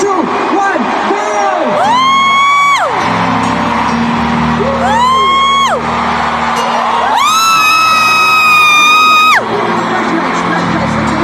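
A large concert crowd at a world tour show shouts and cheers back on cue in loud, sustained waves, several drawn-out collective yells rising and falling over a constant roar of voices.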